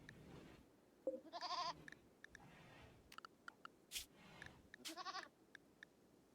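Goats from the video game Rimworld give a few short, faint bleats scattered among small clicks and quiet game sounds.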